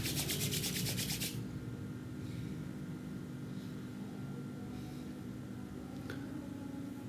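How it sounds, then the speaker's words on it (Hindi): Palms rubbed briskly together during a yoga session, a close, steady hiss of friction at the start that fades into soft, continuous rubbing under a low background hum. "हाथों को रब करेंगे"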